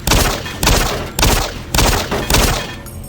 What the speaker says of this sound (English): Can I shoot with a pistol?